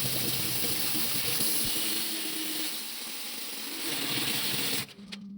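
Water runs steadily over a dirty water filter from a petrol pressure washer as it is rinsed clean, then the flow cuts off abruptly near the end.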